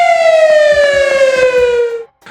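A WS 3000 warning siren sounds a single loud, slowly falling electronic wail for about two seconds before cutting off abruptly.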